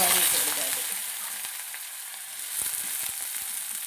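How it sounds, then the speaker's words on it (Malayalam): Elephant foot yam frying in coconut oil with mustard seeds in a pan, a loud steady sizzle and hiss with occasional small crackles and pops, close up and continuous. "നമുക്കിത് ചേന ഫ്രൈ ചെയ്യാം"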